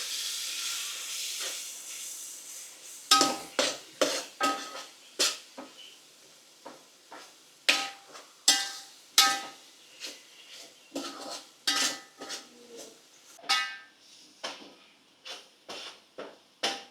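An onion, tomato and chilli masala for Nellore fish curry is stirred in a pan. A soft hiss gives way to repeated sharp scrapes and clanks of a utensil against metal in an irregular rhythm.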